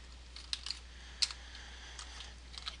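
Computer keyboard keys tapped while entering a copy command at a DOS A prompt during a Windows 3.1 install; a handful of quiet, sparse, irregular clicks over a low steady hum.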